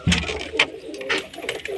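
A Morpinchh pigeon coos softly at close range in a few short, throaty pulses, with faint background noise between the calls.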